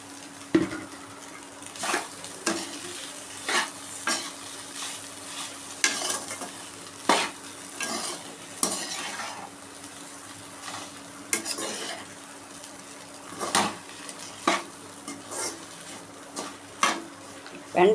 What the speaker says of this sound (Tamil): வெண்டைக்காய் வேகும் போது அடிக்கடி கிண்டி விடணும்.